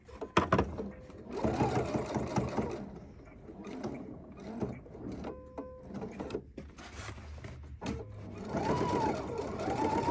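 A Husqvarna Viking sewing machine top-stitches with a narrow zipper foot, whirring in close, steady bursts that start, pause and restart, with a voice heard faintly at times.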